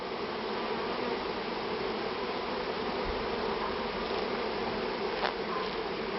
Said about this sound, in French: Petites abeilles noires.